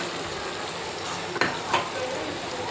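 Chicken curry fries in a pan with a steady sizzle, while two quick scraping strokes of a stirring utensil cut through the crackle up close.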